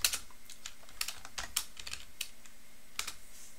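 Irregular keystrokes on a computer keyboard while text is typed into the vim editor, a dozen or so crisp, close clicks spaced unevenly over a quiet hum.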